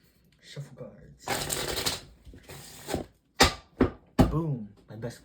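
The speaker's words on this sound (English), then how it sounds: "Let's shuffle cards." Playing cards riffle-shuffled by hand in two long rattling bursts, followed by a few sharp snaps and flicks, up close, with a voice speaking briefly.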